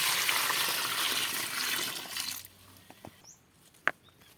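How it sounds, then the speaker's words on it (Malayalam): Water poured from a container into a neem cake and groundnut cake mixture, a steady rushing pour lasting a couple of seconds before it stops, followed by near silence with a few faint drips and small clicks. "ഇനി ഇതിനകത്തേക്ക് നമുക്ക് വെള്ളം ഒഴിക്കാം."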